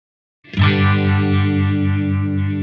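A guitar chord rings out through an Eventide H90 pedal with a vibe and stereo reverb effect, struck once after a short silence and sustaining loud and wavering to the end.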